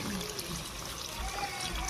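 Water trickling and splashing as it is poured steadily into a cooking pot, a continuous liquid gurgle.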